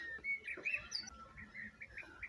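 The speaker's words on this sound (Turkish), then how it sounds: "Kuş sesleri arasında" Birds chirp and twitter softly outdoors in spring by a mosque in Trabzon, Turkey, several short bright calls over a faint background hum.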